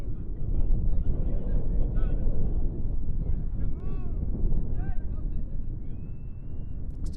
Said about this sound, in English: Looks to be a windy night here in Tucson, Arizona.